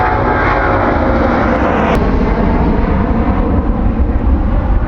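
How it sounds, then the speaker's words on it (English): A big jet airliner taking off at London Heathrow Airport, a loud, steady engine roar that fills the whole clip with broadband rumble and hiss, close and continuous without pause. "Got a big jet coming."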